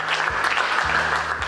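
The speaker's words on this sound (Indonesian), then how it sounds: "kita kasih applause dulu ya" A classroom audience breaks into steady, dense applause during an automotive engineering teaching assessment, the clapping continuous and fairly loud over a low electrical hum.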